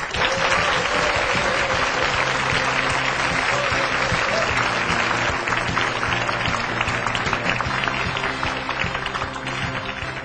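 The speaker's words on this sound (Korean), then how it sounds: "여러분, 힘찬 박수로 맞이해 주십시오." Loud, dense applause from a large lecture audience greeting the vice chairman of the Korea International Trade Association, a steady broadband roar of many hands sustained for about ten seconds, easing slightly at the end.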